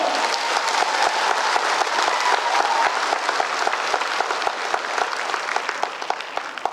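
Hand clapping from a crowd, loud and close, forming a continuous dense patter with sharp individual claps standing out throughout and easing slightly toward the end.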